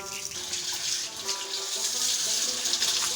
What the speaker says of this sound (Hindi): सबसे पहले देग में डालेंगे पानी।